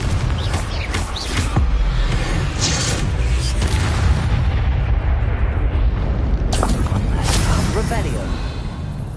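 Confringo fire spell blasts in the Hogwarts Legacy video game on PS5, booming explosions layered over continuous loud combat effects, with a couple of sharper bursts standing out, and a voice speaking over the action.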